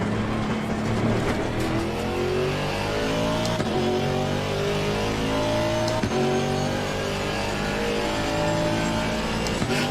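A GT4 race car engine at Bathurst in a racing video game, loud and close, repeatedly revving up through the gears with rising whines and brief drops at each shift, over a continuous rumble.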